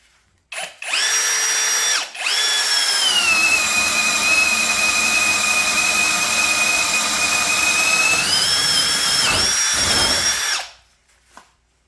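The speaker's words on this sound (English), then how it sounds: "All right, this is a 1-inch Diablo bit." A cordless drill bores with a 1-inch Diablo bit, spinning up to a loud, steady high whine that holds for several seconds, dips briefly, then winds down and stops.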